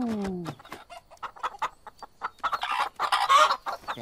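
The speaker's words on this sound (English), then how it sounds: "Back off, chickens." Chickens cluck and squawk in a Teenage Mutant Ninja Turtles Legends video game, a busy run of short fowl calls building louder toward the end, with no talk over them.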